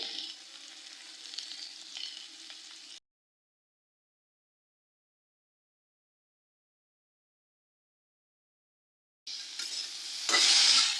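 Potato and pumpkin pieces fry in a pan with a close, continuous sizzle and stirring, then a long silent gap, then louder hissing sizzle and stirring near the end; no voices.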